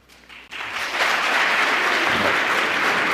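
An audience at a moot court competition bursts into applause, the clapping starting faintly and quickly swelling into a loud, dense, sustained ovation.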